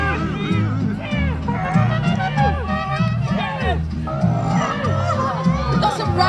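A loud crowd cheers and shouts at a rowing contest during the Suffolk Military Show 2023, with many overlapping voices urging the crews on in a dense, continuous roar.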